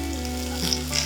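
Cumin seeds, cut green chillies and curry leaves hiss and sizzle loudly in hot oil in a pan while a little millet khichdi is being cooked, a close, steady frying crackle.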